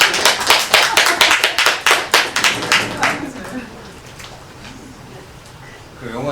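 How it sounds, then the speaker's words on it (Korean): Audience at a film screening and lecture gives a round of clapping, individual claps distinct and fairly loud, fading out after a few seconds into quiet room tone with faint talk. "선생님께 박수 한번 부탁드리겠습니다."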